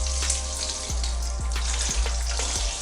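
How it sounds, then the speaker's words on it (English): Birria broth being poured through a strainer, a steady close stream of splashing liquid with soft periodic low thumps and trickles, no voices. "Now we're gonna take our broth and very gingerly strain it."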